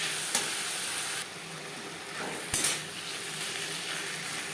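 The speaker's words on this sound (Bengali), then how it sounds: "মশলার সাথে ও পেঁয়াজ টমেটোর সাথে আলু বেশ ভালো করে মিক্স করে দেবো" Chopped potatoes stirred into an onion-tomato masala in a frying pan hiss and sizzle steadily, with a few scattered spoon scrapes against the pan, close by and without any voices.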